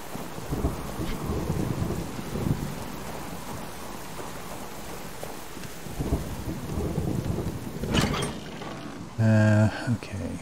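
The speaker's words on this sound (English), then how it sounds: "It'd be alright if it wasn't pouring down with rain." Heavy rain pours steadily, a dense hiss over deep rumbling, with a short louder burst of noise near the end.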